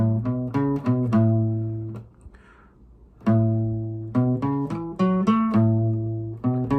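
Electric guitar notes climbing and descending a major pentatonic scale, plucked one at a time in an even rhythm, with a brief pause in the middle before the run repeats.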